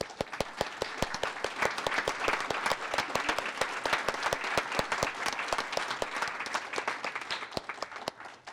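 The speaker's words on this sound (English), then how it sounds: "give them a nice round of applause" A graduation audience at the 2015 JC/LISD Academy ceremony bursts into steady, dense applause. Many hands clap fast and loud for the whole stretch, with no voices over it.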